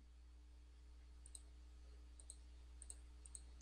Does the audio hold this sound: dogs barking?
no